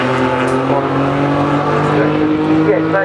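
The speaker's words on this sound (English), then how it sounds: "Get it into that second gear and then see what it's like when it spools up there." A race car engine drones loud and close with a steady, rising tone as it pulls through second gear and spools up.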